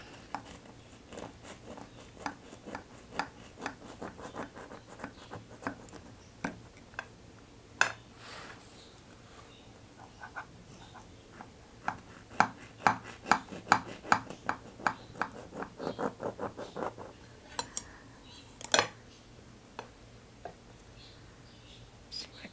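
Baked cheese bread, a soft sponge-dough loaf, being sliced with a knife: repeated sharp clicks and scrapes of the blade against a plate or board come in irregular bursts, close and moderately loud over a low background hum.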